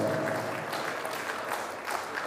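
Audience at an international Urdu mushaira in Muscat claps, a brief burst of dense, steady applause from a hall crowd, fairly close and alone.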